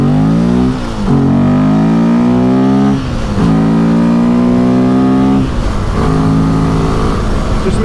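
A Royal Enfield Himalayan 450 motorcycle engine revs loudly up close in repeated rising pulls, each climbing in pitch before dropping back, with no talking.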